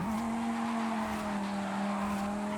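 Sustained tire squeal from a car drifting under handbrake in Forza Horizon 5, a steady loud screech with engine drone running continuously throughout without a break.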